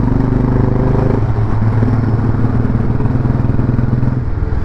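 A restored 2004 Royal Enfield motorcycle thumps along on a test ride, its single-cylinder engine a loud, close, continuous beat with a slight shift in tone partway through.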